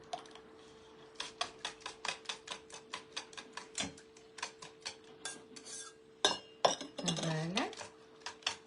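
A spoon scrapes cream from the bottom of a cooking pot while preparing a courgette invisible cake, giving a quick run of clinking, scraping strokes close by, with a brief spoken word and a short clatter near the end.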